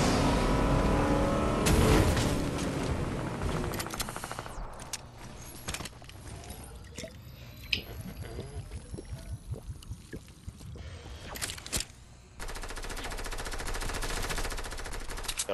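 Gunfire in the Fortnite video game, with bursts of shots near the player around a helicopter and a boat, rattling in quick irregular volleys over engine and game noise, loud and close.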